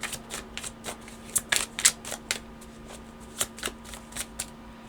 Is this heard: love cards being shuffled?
yes